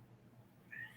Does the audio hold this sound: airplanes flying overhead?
no